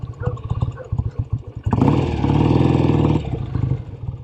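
A 1967 BSA Spitfire Special MkIII motorcycle, first a choppy, pulsing idle, then the engine opens up into a loud, steady roar for about two seconds before dropping back, heard close with no talk.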